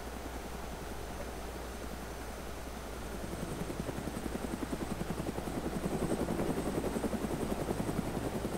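A video game helicopter flies with a steady rotor chop and engine whine that slowly grows louder, as if drawing nearer, with no talk over it.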